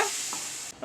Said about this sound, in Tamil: எல்லாத்தையும் கிளறி விட்டு